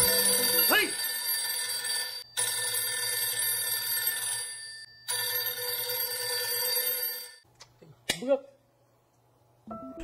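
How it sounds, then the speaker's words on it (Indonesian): A telephone rings in a tense scene from a Thai thriller film, its bright electronic bell sounding in long repeated bursts separated by short gaps, followed by a few sharp sudden noises and then quiet. "ternyata itu hanya bunyi telepon yang membuat mereka kaget"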